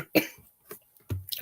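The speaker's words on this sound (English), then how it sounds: "I was trying to cough" A few short, close coughs in quick succession, rough and throaty, with brief gaps between them.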